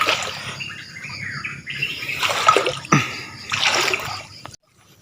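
A high river runs in a steady, close rush of flowing water, with rising swells of spray and splashing and a few bird chirps above it, then it cuts off abruptly at the end.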